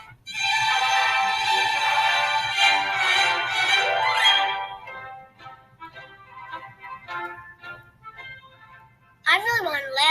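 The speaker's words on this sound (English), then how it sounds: "An orchestra is a group of musicians that play instruments together." Young orchestra musicians play together in a full, sustained ensemble passage that fades into softer, sparser notes, then a brief bright swell returns at the end.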